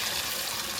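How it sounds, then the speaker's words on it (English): Water runs steadily from a kitchen tap while rice is being cooked, a close, continuous hissing gush. "I'm getting some water"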